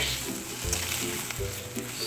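Egg sizzling and frying in a pan, a steady close crackle with brief stirring or flipping scrapes at intervals, no talking.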